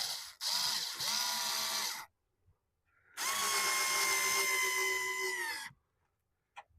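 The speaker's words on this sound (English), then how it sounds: "it's going to get a couple of little screws put into the side to hold it in place" A small power drill drives little screws into a model railway connector in two whining bursts of about two seconds each, close and loud, with silence between them and a faint tap at the end.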